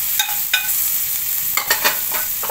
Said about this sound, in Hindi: हल्दी, नमक, चाट मसाला, सब ऑयल को इसमें मिक्स कर लेंगे।